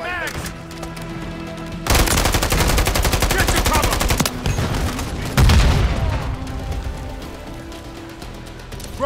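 Rapid machine-gun bursts and heavy gunfire rattle loud and close in Call of Duty, coming in long sustained volleys separated by brief quieter gaps.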